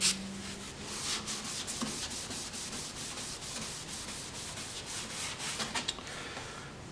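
A hazy, yellowed car headlight lens is hand-sanded with steady back-and-forth strokes, giving a close, continuous raspy rubbing sound with a faint short tone near the start.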